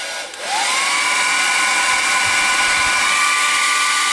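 A heat gun on its second setting blows a steady, loud whoosh while shrinking heat-shrink wrap on power inverter wiring in a truck, starting up just after a brief pause and holding constant to the end.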